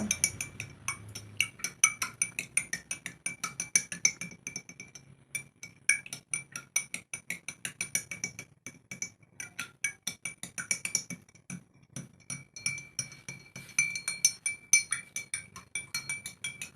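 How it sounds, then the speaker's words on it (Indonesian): A spoon stirs a mixture inside a glass, making a steady run of bright, rapid clinks against the sides that continue throughout with short pauses, close and clear, with no talking. "Kita aduk sampai merata."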